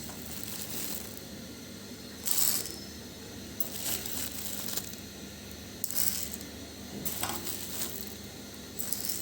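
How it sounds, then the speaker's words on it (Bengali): Dry red lentils (masoor dal) pour and rattle into a bowl in several short bursts of crisp patter, separated by quieter gaps, close and clear. "এখানে মসুরের ডাল নিয়েছি, আর মসুরের ডালটা দিকে এই বাটিটার ভিতরে দিয়ে দিচ্ছি।"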